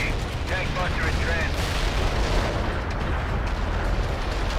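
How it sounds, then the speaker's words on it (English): Artillery fire support strikes in the World in Conflict strategy game land as a dense barrage of rumbling explosions and blasts that merge into a continuous roar, with a voice speaking briefly early on. "Look at all the fire support I'm bringing in here"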